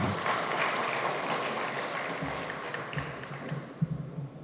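Audience applause at the inauguration of the AVM Convention Centre, a steady broadband patter of many hands sustained for several seconds and easing off slightly toward the end.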